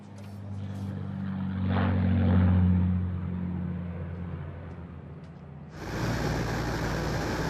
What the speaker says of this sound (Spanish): El Sun-Suk Black, el avión de Kennedy, tuvo un despegue perfecto.